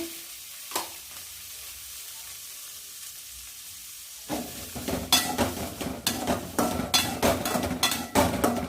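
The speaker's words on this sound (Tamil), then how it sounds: "பூண்டு சேர்த்துக்கிறேங்க. வெங்காயம் சேர்த்துக்கிறேங்க. தக்காளி பழம் சேர்த்துக்கிறேங்க." Garlic, onion and tomato sauté in a pan for a village-style bitter gourd tamarind curry, quiet at first, then a loud burst of sizzling with repeated stirring scrapes and clanks of a utensil.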